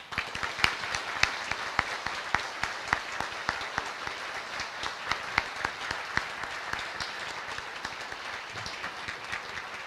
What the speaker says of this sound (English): Ladies and gentlemen, please join them in a round of applause.